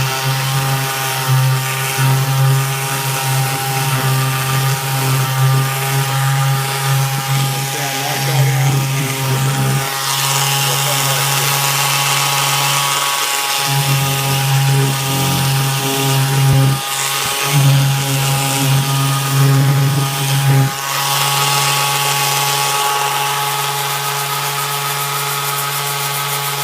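A power sander works steadily on the wooden stock of an RPK AK-47 rifle being refinished, a loud, constant motor whine with a strong hum and brief dips as the tool eases off the wood.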